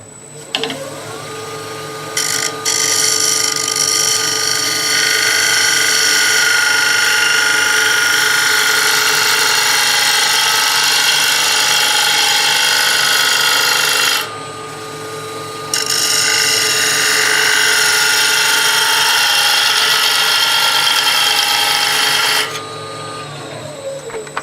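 A gouge cuts a wooden bowl spinning on a wood lathe, producing a loud, continuous whirring, high-pitched scraping drone that stops briefly midway and then resumes.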